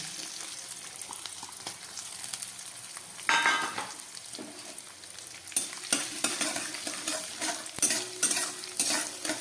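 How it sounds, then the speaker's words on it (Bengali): Chopped coconut pieces fry in a pan with a steady sizzle, while a utensil scrapes and stirs through them in repeated close, uneven strokes. "খুব ভালো করে এবার এটাকে ভেজে নিচ্ছি"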